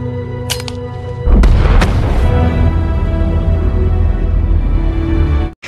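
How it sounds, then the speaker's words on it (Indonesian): A bomb hidden in an inhaler detonates in an action film: one heavy, close boom with a deep, rumbling low end that rolls on for several seconds before cutting off, preceded by faint sharp clicks. "Ternyata si ilmuwan membawa sebuah bom yang ditanam di inhaler miliknya, sehingga dirinya dan Antoine pun tewas akibat ledakan bom tersebut."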